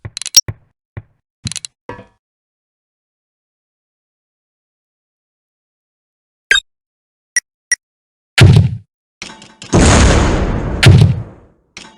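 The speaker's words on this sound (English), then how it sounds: "You can accomplish this by selecting laze on the brick barrier and then using range plus to get the grenade well behind the wall." A grenade explodes behind a brick wall in Soldier of Fortune II, a loud rumbling blast late in the sequence, preceded by scattered sharp gunshots and clicks separated by silence.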